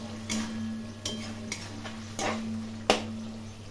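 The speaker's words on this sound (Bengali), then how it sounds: "এই সময়ে আলু দিয়ে খুব ভালো করে কষিয়ে নিতে হবে।" Potatoes stirred and sautéed with sugar in a pan: a handful of sharp, spaced scrapes and taps of a utensil against the pan over a low, steady hum, close by.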